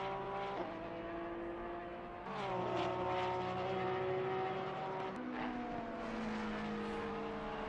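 Racing cars in Assetto Corsa Competizione qualifying at Kyalami, a loud continuous engine drone whose pitch shifts as cars rev and change gear, steady with no talk.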